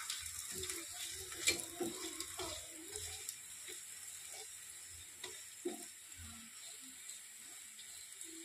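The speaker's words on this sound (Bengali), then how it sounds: "সাদা তেলেই আমি পরোটাটা ভাজছি" A fenugreek-leaf paratha fries in white oil in a pan, giving a soft, quiet sizzle with occasional light scraping and clicking of a utensil, close and without talk.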